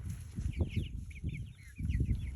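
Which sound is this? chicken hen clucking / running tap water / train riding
chicken hen clucking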